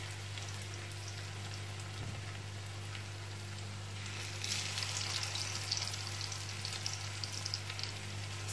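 Syrniki cheese pancakes frying in butter in a small pan, a steady close sizzle and crackle that grows livelier and louder partway through, with a constant low hum underneath.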